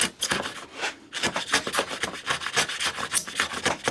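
A chisel pares wood inside a stopped dado in quick, close rasping strokes, a steady rhythm of short scraping pushes with a brief pause near the start.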